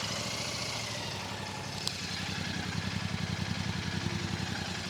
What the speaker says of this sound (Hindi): आज शुरुआत करेंगे आवाज़ से, क्योंकि रॉयल एनफील्ड के पास में एक ही इंजन है, पैरेलल ट्विन